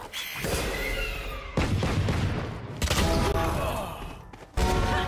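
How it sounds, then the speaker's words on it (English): VALORANT played at a live arena showmatch, with loud bursts of gunfire and a flashbang blast separated by abrupt cuts and short pauses, close and harsh. "Flashbang."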